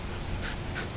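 A retriever hunting dog gives a couple of soft whimpers over quiet, breathy panting, close and faint.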